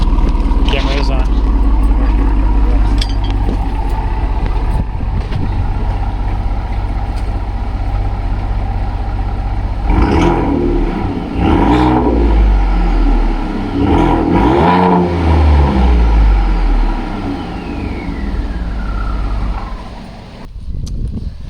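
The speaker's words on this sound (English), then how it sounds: "the exhaust actually sounds pretty good" A 2015 Ford F-150 Lariat with the 3.5 engine rumbles loudly after a new exhaust install, its low idle swelling into a couple of revs midway, with voices talking nearby.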